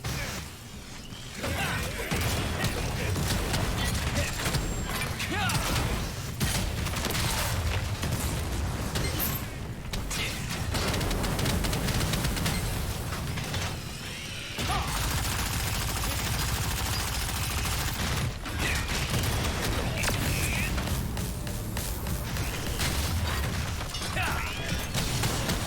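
Dense, continuous gunfire, blasts and crashing impacts from the Artillerist class in the video game Lost Ark pound away almost nonstop with barely a pause.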